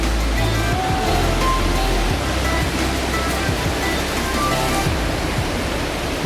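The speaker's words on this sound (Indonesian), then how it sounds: "sampai di air terjun Grojogan Sewu." The Grojogan Sewu waterfall in Tawangmangu, Central Java, gives a steady, dense rush of falling water that fills the whole scene at constant loudness, with no voices over it.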